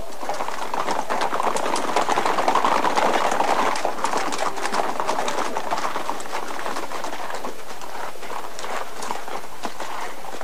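Hoofbeats of galloping horses as a radio drama sound effect, a dense rapid drumming that stays loud and close throughout, with no speech over it.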